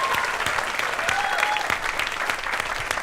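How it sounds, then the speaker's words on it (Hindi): Studio audience at a comedy show breaks into steady, dense applause that holds at an even level for a few seconds without pause. "एक ताली हो जाए."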